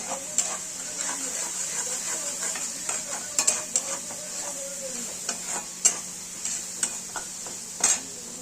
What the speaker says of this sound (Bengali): আমরা ভালো করে মশলাটা কষিয়ে নেবো, যাতে কাঁচা গন্ধটা না থাকে।